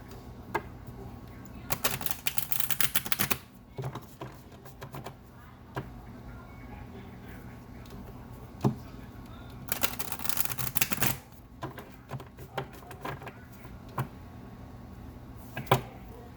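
Animal spirit oracle cards are shuffled in two quick riffling bursts of rapid papery clicks, separated by sparse single taps and handling noises, close and fairly quiet.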